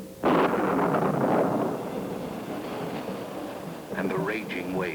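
A thunder sound effect: a sudden loud, rumbling boom that rolls on for a couple of seconds and fades, then someone speaks over the fading roll.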